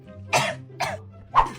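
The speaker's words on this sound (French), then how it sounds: "Tu tousses, ma chérie?" A girl coughs three times in quick succession, short rough bursts close to the listener, the last one the loudest.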